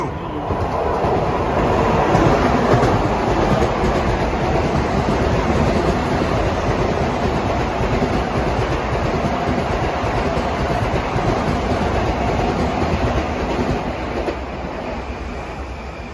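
At Elmont, an LIRR train thunders by nearby in one continuous loud rush of wheel and rail noise with a rhythmic clatter, easing slightly toward the end.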